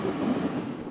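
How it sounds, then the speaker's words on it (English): A commuter train rumbles past close by near Ventimiglia, Italy, a continuous low rolling clatter of wheels on rails for a brief moment. "Commuter trains depart Ventimiglia for France every few minutes."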